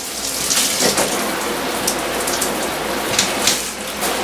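A Delta In2ition dual head shower runs its big shower head, a loud, steady, close hiss of spraying water with slight surges and no talk.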